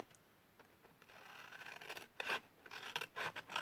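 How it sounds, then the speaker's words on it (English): Scissors trim the oversized flaps of a paper gift box made from sturdy designer series paper. Soft rubbing gives way to a run of close, raspy cutting strokes that grow louder toward the end, with no voices. "these two flaps here are too big and we need to just trim those slightly"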